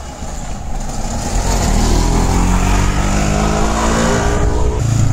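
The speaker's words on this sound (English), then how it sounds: "Ah, nice tuk-tuk." A tuk-tuk engine drones past on a road in North Goa during the monsoon, a loud, steady motor rumble that swells and holds close by.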